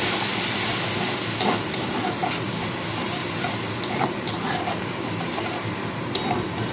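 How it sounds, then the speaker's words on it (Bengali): Spice paste with a little water and sugar frying in a pan for a fish-head chorchori: a steady, close hiss and sizzle that runs throughout, with faint scattered clicks and no talking. "মশলাটা এবার অল্প করে ভেজে নেব।"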